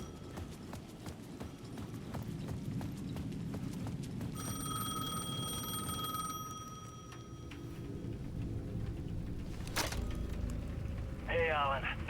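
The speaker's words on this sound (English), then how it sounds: "The payphone at the edge of the plaza was ringing again." A payphone in the Alan Wake 2 video game rings with a bright electronic trill over a steady ambient bed of footsteps and rumble, with a second short ring burst near the end.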